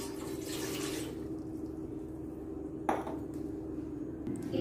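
Water pours steadily from a glass into a metal idli cooker in a home kitchen, a continuous splashing rush followed by a clink of metal, close up with no talk.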